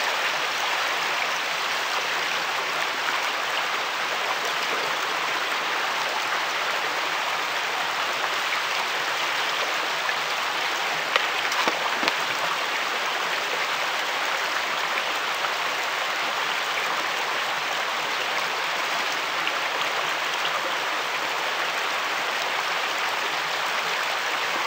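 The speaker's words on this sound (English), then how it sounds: "flush it with clean water now, so I can see down into it and see what I got." Clean river water rushes over bedrock in a gold-sniping spot, a steady, dense, close wash of flowing and splashing water that holds constant for the whole stretch, with no talking.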